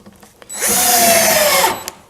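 A power drill drives a 1 1/4 inch screw into pine deck wood in a single loud burst of about a second, the motor whine rising and then cutting off, with no talking.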